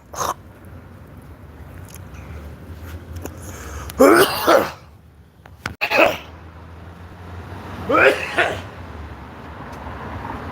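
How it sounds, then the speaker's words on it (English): A person coughs a few times in short, harsh bursts, with quiet breathing and small noises between them. "Why am I coughing?"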